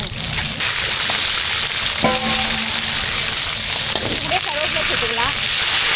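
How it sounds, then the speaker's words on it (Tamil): Mustard seeds crackle and sizzle in hot oil while tempering sambar in a village kitchen, a continuous bright hiss with scattered pops and a faint utensil clink partway through, a voice murmuring briefly underneath. "எண்ணெய் சூடாகிச்சு கடுகு சேர்த்துக்கலாம்"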